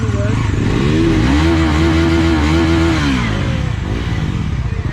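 A Bajaj NS400Z 400cc motorcycle engine idles close by, then revs up in a rising roar, holds briefly and drops back to a throaty idle.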